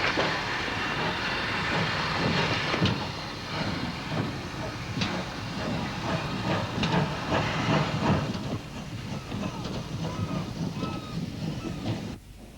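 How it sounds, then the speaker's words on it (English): Channel Islands boat train moving along the Weymouth Harbour quayside tramway, a steady steam hiss with faint rhythmic clicks of wheels over rail joints, moderately distant and continuous. "In Weymouth Harbour, the train had to weave its way around the quayside, with often very little clearance on either side of the train."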